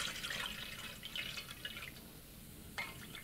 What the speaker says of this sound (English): I'm adding warm water, and this is between 90 and 95 degrees.